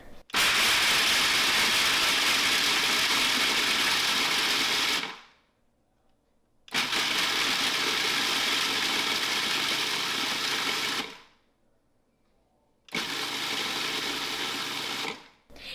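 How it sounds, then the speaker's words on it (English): A food processor grinds cashews and hemp seeds in three loud, steady bursts of whirring and rattling, each several seconds long and separated by short silent pauses. "We're gonna grind them up until the cashews are in little tiny pieces."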